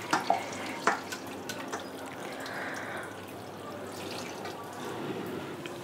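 Cold water poured over cut mango pieces while preparing mango murabba at home, a steady close wash of running water with a few sharp splashes and clinks near the start.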